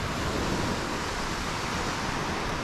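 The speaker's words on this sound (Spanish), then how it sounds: "Vean nada más qué bonito está el mar." Ocean waves wash onto a calm beach at Los Ayala, Nayarit, a continuous soft hiss of surf with no distinct breaks and no voices.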